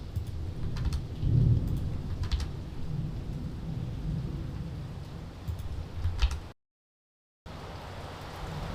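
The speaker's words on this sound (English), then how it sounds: "Oh, and the rain is back." Heavy rain pours steadily in Nicaragua while deep thunder rolls through it, then the sound briefly drops out before the rain returns.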